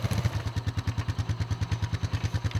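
Low thumping idle of an ATV engine backing up with a log skid, a fast, even chug of regular pulses with some rattle, close and moderately loud, no talking.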